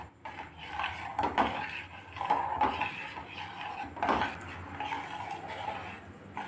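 A spoon scrapes and clinks continuously against a pot while apricot sweet is stirred, a dense, steady kitchen clatter with irregular louder scrapes, close and without talk.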